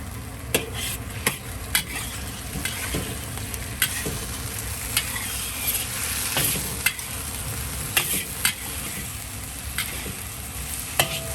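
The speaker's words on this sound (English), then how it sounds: "Let them sizzle in the oil for about 1 minute or until fragrant." Garlic and ginger sizzling and frying steadily in oil in a wok throughout, with occasional scrapes and clicks of a wok spatula stirring, close and moderately loud.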